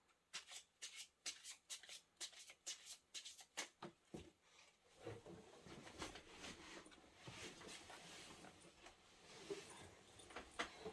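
Tarot cards being shuffled close up, a rapid run of crisp riffling flicks followed by softer continuous rubbing and sliding of the deck.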